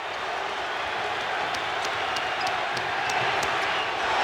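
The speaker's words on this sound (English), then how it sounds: "Crowd on its feet in unison now." Basketball arena crowd at the 1988 NBA Finals Game 7 between the Lakers and Pistons, standing and cheering in a loud, sustained roar that stays steady and dense throughout, with faint scattered claps on top.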